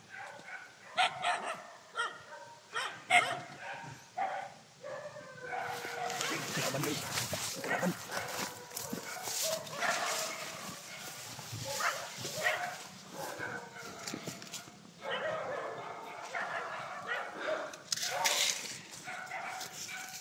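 Dogs barking, yipping and whimpering at close range in repeated bursts, mixed with people shouting and talking over them.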